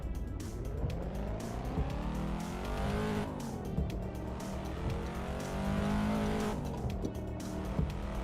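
A Cadillac CT5-V with traction control off drives in a Volvo driving simulator game, its engine rising and falling in pitch through gear changes and revs, with occasional tire squeal, fairly faint and without talk.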